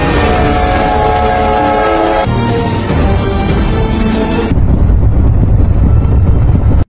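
A train rolls along a railway in a film scene, a loud continuous rumble of wheels and carriages that shifts character twice, with no voices.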